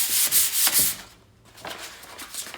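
A few short rasping strokes of 220-grit sandpaper on rusty metal up close, then a brief pause before softer scraping resumes.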